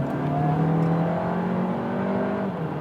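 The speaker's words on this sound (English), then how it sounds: "I'll now accelerate from 50 kilometers." A 2020 Skoda Superb SportLine iV plug-in hybrid accelerates in combined hybrid mode from 50 km/h, a smooth steady engine tone climbing in pitch, heard from inside the car with no talk.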